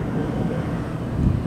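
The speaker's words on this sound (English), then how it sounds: "the plane is coming" An airplane passes overhead while a BMW F20 is being worked on, producing a steady, low, broad rumble that swells slightly toward the end, with faint voice traces underneath.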